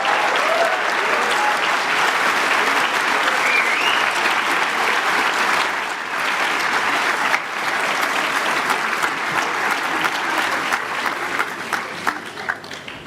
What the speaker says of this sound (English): just give those guys a big round of applause for all their support